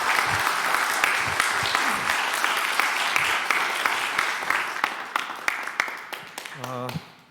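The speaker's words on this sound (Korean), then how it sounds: "나오실 때 우리 박수로 좀 환영해 주셨으면 좋겠습니다" A church congregation claps steadily to welcome the pastor to the pulpit. The dense applause fills the room, then thins out over several seconds until a few last claps remain and a voice comes in at the end.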